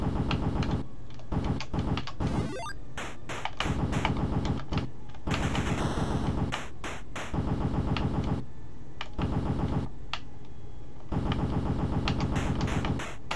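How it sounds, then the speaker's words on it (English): Rapid bursts of 8-bit gunfire from The Punisher on the NES, shots crackling in quick clusters with short pauses between volleys, loud and continuous alongside electronic game music and effects. "I'm shooting these guys that are shooting me."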